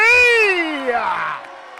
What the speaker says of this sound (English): And I think that gets the biggest cheer of the night.